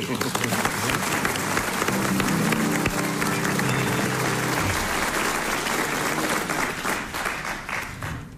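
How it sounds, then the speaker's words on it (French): A studio audience at a French radio quiz show breaks into sustained applause, dense and steady at a moderate distance, with some crowd voices mixed in. "mérite vos applaudissements."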